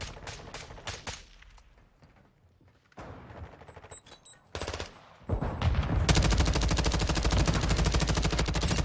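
Light machine gun fire in Warzone 2: scattered shots and short bursts amid game noise, then a loud, sustained, rapid stream of automatic fire that runs to the end.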